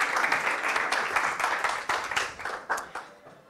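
An audience claps for a contestant at the final of a science-communication competition, a steady, dense burst of applause that holds for a few seconds and then thins out.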